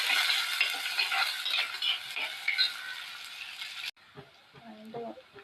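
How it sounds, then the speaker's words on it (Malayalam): Chopped shallots, crushed ginger and garlic, and dried and green chillies frying for a fish curry, with a loud crackling sizzle and stirring that cuts off abruptly, followed by quieter talk. "അതിലേക്ക് ചുവന്നുള്ളി അരിഞ്ഞത്, ഇഞ്ചിയും വെളുത്തുള്ളിയും കൂടെ ചതച്ചതും, വറ്റൽമുളകും പച്ചമുളകും കൂടി ഇട്ട് കൊടുത്തിട്ട് നല്ലോണം ഒന്ന് മൂപ്പിട്ട്"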